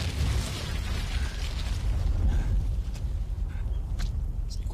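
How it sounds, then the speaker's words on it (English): A motorcycle blows up in the video game Metal Gear Solid 3, a loud, sustained rumbling boom with crackling debris that slowly fades, without speech. "C'est une grosse explosion pour une moto quand même."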